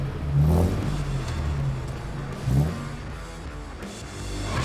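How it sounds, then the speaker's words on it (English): An off-road vehicle engine fitted with an aftermarket exhaust revs in two strong bursts, each a deep rising roar that falls back to a rumbling idle, with no one talking. "an exciting roar with every press of the pedal"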